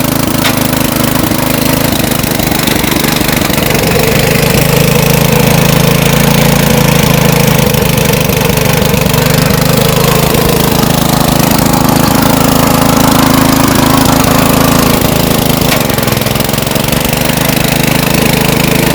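An auger branch shredder runs in first gear, a loud, close, continuous motor drone with a rough grinding texture that stays steady for the whole stretch, no voices.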